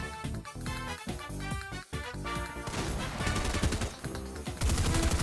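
Rapid gunfire bursts and crashing impacts in a Fortnite match, loud and dense, with rattling automatic fire building toward the end over game music.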